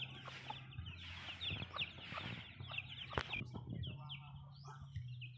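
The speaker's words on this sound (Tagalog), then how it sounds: "Ito pa yung isa nating inahin." A hen clucks softly and repeatedly amid other chicken chatter and faint bird calls, with a low steady hum underneath.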